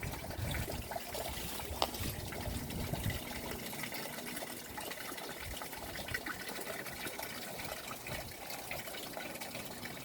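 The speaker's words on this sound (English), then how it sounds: "This is my mini mountain sluice. It's a cleanup sluice that I built." Water runs steadily through a homemade 42-tray mini mountain cleanup sluice for gold, a soft continuous trickle and gurgle heard close by with no talking.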